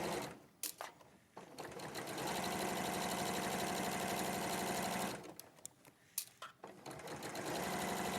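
Sewing machine stitching an inner seam, running in a long steady burst of rapid even stitches, faint and close, with short pauses before and after and a brief start-stop at the end.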